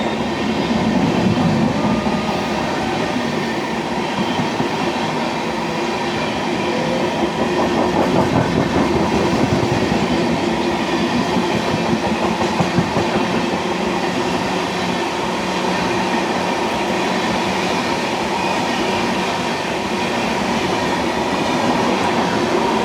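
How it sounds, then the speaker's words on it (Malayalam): An Ernakulam superfast express train passes close by, its steady rumble and rhythmic wheel clatter running loud and continuous throughout with no voices. "ഇത് Ernakulam SMET express super fast."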